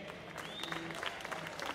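Audience at an Italian referendum benefit concert clapping for the sound technicians, a steady wash of applause with some crowd murmur and faint background tones, fairly quiet.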